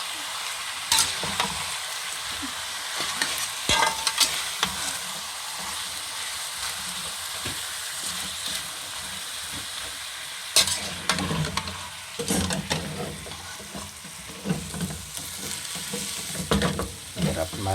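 A spoon stirs 1.5 kilos of chicken in a pan for chicken pastil. Steady sizzling and frying run throughout, with louder scraping strokes that come and go. No one speaks.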